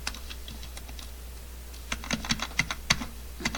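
Keys clicking on a computer keyboard as numbers and text are typed, sparse at first and then a quick burst of close, crisp keystrokes over a low steady hum.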